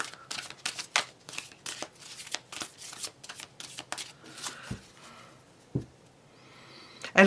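A deck of tarot cards is shuffled close up in rapid riffling bursts with short pauses, then slows to a few sharper taps and flicks near the end.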